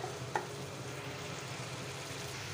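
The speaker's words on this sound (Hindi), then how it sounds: "अब हम चिकन शामिल करके इसको 10 से 15 मिनट भूनेंगे हल्की आंच पे" Chicken fries in spice masala on low heat, a soft, steady sizzle with a faint stirring clink near the start, quiet and close with no talking.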